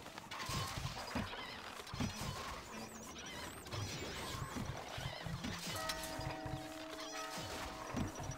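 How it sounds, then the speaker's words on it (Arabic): A horse in the game Stronghold: Crusader neighs and gallops: a whinny rises over steady clip-clop hoofbeats and clanking battle noise, with a constant dense game soundscape. "الفرس تعدو."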